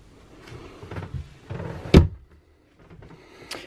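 A cabinet door in a Rockwood Mini Lite camper is opened: soft knocks and rattles of handling lead to one sharp wooden thunk, then quiet, with another faint knock near the end.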